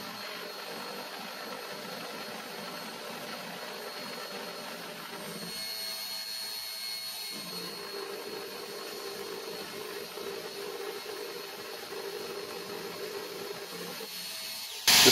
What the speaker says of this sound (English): I'm gonna run this, which means the compressor will be running a fair bit